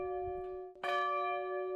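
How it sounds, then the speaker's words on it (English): A victory bell in Towers Hall rings with a single clear strike that blooms into a sustained, humming metallic tone, close and bright against a quiet room. "Thanks to Mr. Cole, we now have a victory bell that we can ring once more"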